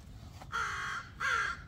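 A crow gives two loud, hoarse caws in quick succession outdoors on a dog walk, close and clear over faint ambient noise.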